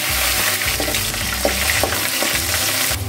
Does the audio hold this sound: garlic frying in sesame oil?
yes